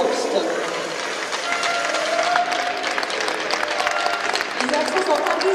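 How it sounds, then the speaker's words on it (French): Applause at an ice hockey game between HC Franches-Montagnes and Wiki-Münsingen, moderate crowd clapping mixed with arena noise and a voice talking over it. "Les applaudissements sont en plus demandés, Sébastien Nicollet, Freddy Reinheim."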